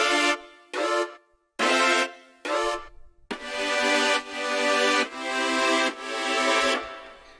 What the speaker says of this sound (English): I've layered up this synth I have right here with some brass